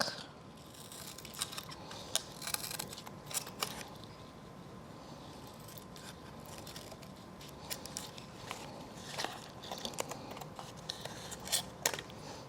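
Scissors snip through material at a craft table, a scattered run of short crisp cuts spread across the stretch at moderate loudness, with light handling clatter between them.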